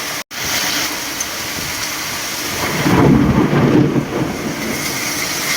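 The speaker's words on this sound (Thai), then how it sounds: "โอ้พายุเมืองระยองโอ้น้ำท่วมกันหมดแล้วมั้งเนี่ยโอ้ทั้งลมทั้งฝนเลย" A heavy storm lashes Rayong, Thailand, with loud, steady downpour and gusting wind, a rolling thunder rumble swelling midway before easing back into the constant roar of rain.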